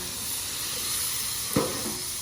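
Water splashed in a ring onto a hot pan with wild turkey meat sizzles and hisses steadily, with a sharp burst of steam partway through, close and alone.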